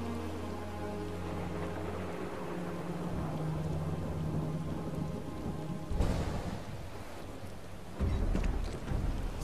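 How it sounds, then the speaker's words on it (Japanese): Heavy rain pours steadily in the Final Fantasy 7 Rebirth video game, a dense hissing roar over a low hum, broken by two louder rolls of thunder near the end. "すごい雨だな。"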